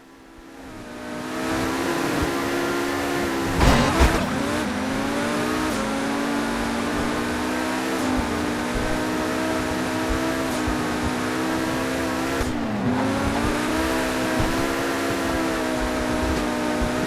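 Pegassi Tempesta supercar in GTA driving a full-map lap, its engine droning steadily with rising and falling revs, two sharp dips and surges as it shifts or slows, loud and continuous with no talk.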